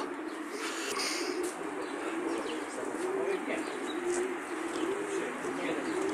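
Racing pigeons coo steadily at a loft during the arrival at a winter race final, soft repeated low calls with a few chirps and light rustling of wings around them.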